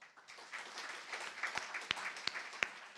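Audience applause at a French press-industry conference day at Publicis Media, greeting a courtroom-style sketch artist: soft, steady clapping from a modest crowd, with a few sharper individual claps standing out near the end.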